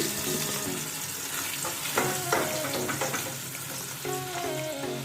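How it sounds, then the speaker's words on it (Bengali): Paneer cubes frying lightly in oil in a pan for palak paneer, a loud steady sizzle with bursts of crackling and a few clinks of a utensil against the pan. "আমি এখানে পনিরটাকে একটু হালকা করে ভেজে নেব"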